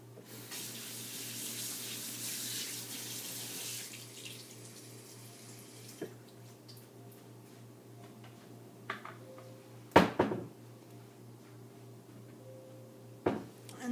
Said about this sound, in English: Should probably wash my hands again really quick.